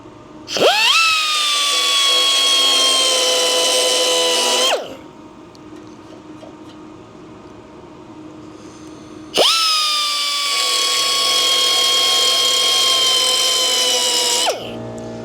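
A pneumatic air impact tool driving old rusted screws runs in two long bursts of about four and five seconds each, a loud close whine with a quiet pause between them.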